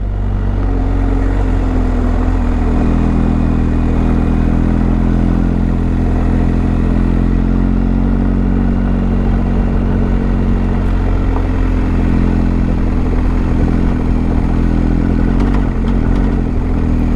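A big, heavy, expensive motorcycle on Enduro Pro tyres rumbles along a mountain road in Victoria's High Country, its engine a loud, steady low drone close up, with wind and a slight rise in revs near the end.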